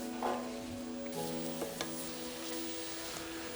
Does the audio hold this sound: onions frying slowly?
yes